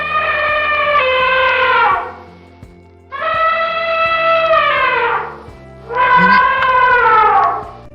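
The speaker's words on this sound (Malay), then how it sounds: "Itu ialah bunyi dari gajah." Three long trumpeting elephant calls sound clearly, each about two seconds, separated by short pauses, with a faint rhythmic backing underneath.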